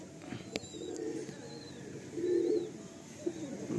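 Soft pigeon coos from a Madrasi pigeon, a few low murmuring phrases close by, with faint chirps and a sharp click in the background.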